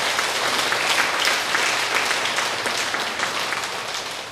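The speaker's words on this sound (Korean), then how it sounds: "박수 칩시다." An audience at a religious lecture claps together in sustained, dense applause, loud and even at first and tapering slightly toward the end, with no voices over it.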